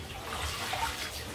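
Young radish greens for vegan yeolmu kimchi are swished and rinsed in a basin of water, giving soft, continuous sloshing and splashing close by.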